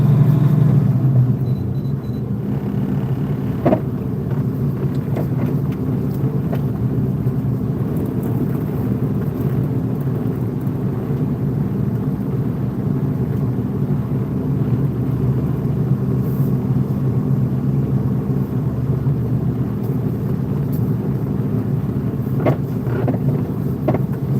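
Truck pulling out of a tight, small parking lot in Canada, a steady low engine rumble with road and wind noise that stays constant throughout, with no talking.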